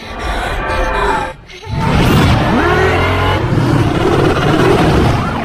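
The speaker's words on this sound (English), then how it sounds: "Batman brings Rachel in the tank, and he drives away." Batman's armored tank vehicle from the film roars off with a loud, sustained engine surge and tire noise after a brief lull, close and dominant throughout.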